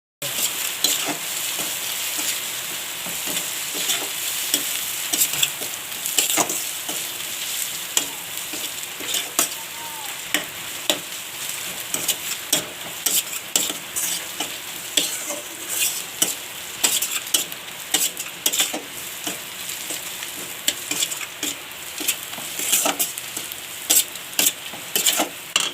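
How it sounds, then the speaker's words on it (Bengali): Ginger and garlic spice paste frying in oil in a kadai, stirred continuously for a fish curry, a dense close sizzle broken by frequent sharp clinks and scrapes of the spoon, with no voices. "দিয়ে ভালো করে কষিয়ে নেব। ভালো করে কষাতে হবে, তেল ছেড়ে দিচ্ছে কড়া, ততক্ষণ কষিয়ে যেতে হবে।"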